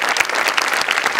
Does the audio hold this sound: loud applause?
yes